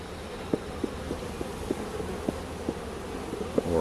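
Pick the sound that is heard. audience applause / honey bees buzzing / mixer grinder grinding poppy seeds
honey bees buzzing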